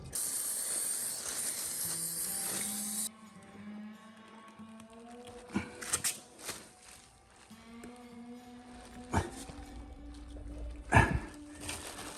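A short, close burst of aerosol spray as GT85 lubricant goes into a seized Moto Guzzi Le Mans Mk1 engine, followed by quiet metallic clicks, ratcheting and tonal squeaks from working on it.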